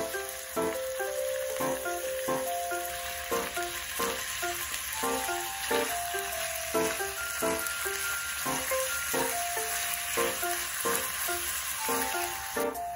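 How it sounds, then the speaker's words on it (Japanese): Meat sizzles in a frying pan over medium heat for a Thai-style lettuce wrap, a steady crackle with regular stirring or scraping knocks, close and alone. "中火に熱したフライパンで肉全体に火を通します。"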